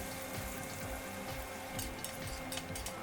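Onions fry in oil in a pan toward golden brown, a steady soft sizzle and bubbling hiss with faint scraping, continuous and fairly quiet.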